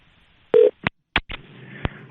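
A telephone number being dialed, heard as a quick series of separate electronic tone bursts with short gaps between them, fairly close and clear, followed by a longer steadier stretch of line tone.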